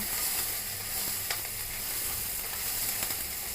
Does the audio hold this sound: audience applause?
no